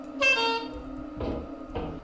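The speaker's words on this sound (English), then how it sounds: "I'm honking my emergency horn." An emergency horn honks in the video game Lethal Company: one sustained blaring tone followed by two shorter, duller blasts, with faint background rumble.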